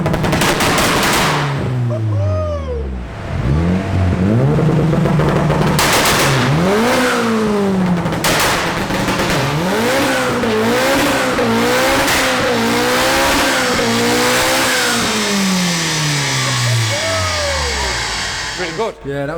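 A turbocharged Honda Civic engine revs hard again and again, rising and falling through repeated loud pulls with sharp popping bangs, very close and loud, with voices heard faintly beneath.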